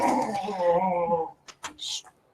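A small pet dog whimpers and whines in a long, wavering, moaning cry, then gives a few short, sharp yelps, close by and loud indoors.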